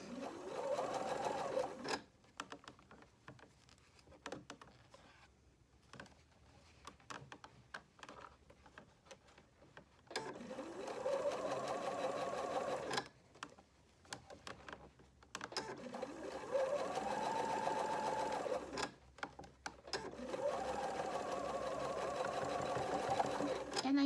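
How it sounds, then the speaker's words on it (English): Sewing machine stitching a ribbed Lycra cuff onto a sleeve, running in several sustained bursts separated by short pauses, fairly close and steady in pitch. "And I just backstitched at the end."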